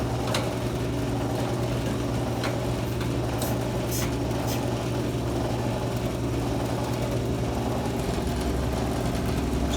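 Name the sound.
T50 booster running and chuffing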